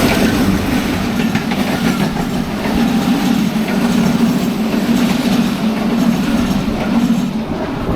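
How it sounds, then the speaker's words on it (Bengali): Sirajganj Express train running on rails, a steady loud rumble with rhythmic clatter of wheels throughout, heard close as if from a carriage or trackside. "এইটা হলো সিরাজগঞ্জ এক্সপ্রেস ভোর ছয়টায় সিরাজগঞ্জ এক্সপ্রেস ছাড়ছিল"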